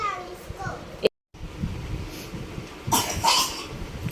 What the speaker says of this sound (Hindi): देख कितनी खांसी हो रही है।